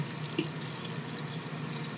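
Water poured from a tap into a pot of dry macaroni for cooking, a steady, even rush of liquid that runs through the whole stretch at moderate level, with no talking.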